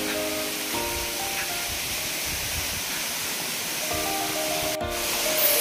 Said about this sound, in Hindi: पहाड़ से नेचुरल पानी यहाँ से आपको गिर रहा है।